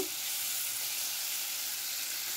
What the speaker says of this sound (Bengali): এবার আমি দিয়ে দিলাম ভেজে রাখা আলু আর সজনে ডাঁটার টুকরো। মশলার সঙ্গে আবারও বেশ কিছুক্ষণ কষিয়ে নেব।